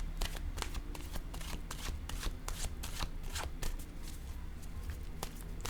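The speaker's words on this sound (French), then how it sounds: "Je vais piger maintenant une carte de mon oracle de l'âme intuitive." A deck of intuitive-soul oracle cards is shuffled by hand, a steady run of crisp riffling flicks and soft slaps up close for several seconds with no talking.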